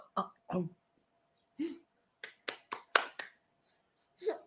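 A small child claps hands in a few sharp, separate smacks. The claps are spaced irregularly among short adult vocal sounds in a quiet room.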